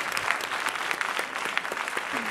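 Audience applause for a dancer named Armen at a gala concert of a dance competition, a steady dense clapping that runs unbroken at moderate volume throughout.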